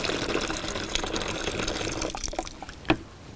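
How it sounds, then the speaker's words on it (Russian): Boiling water pouring from a kettle, a steady splashing, filling stream heard close up that tapers off into a few drips and a final small clink. "Я беру чайник кипятка."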